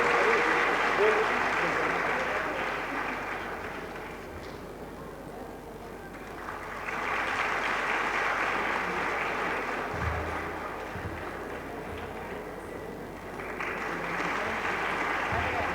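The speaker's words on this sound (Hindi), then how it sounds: "सभी जोरदार तालियां" A gathering at a cultural programme in Shravasti breaks into sustained applause, a continuous roar of clapping that dips midway, swells again and carries on, with some voices mixed in.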